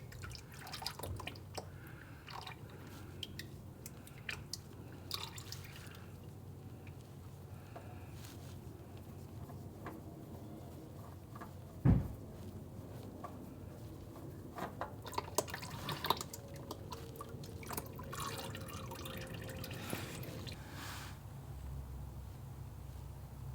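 Engine oil dripping from the drain plug of a 2021 Toyota Camry Hybrid, a faint, quiet patter of drops with one sharper splash partway through, under low background hum.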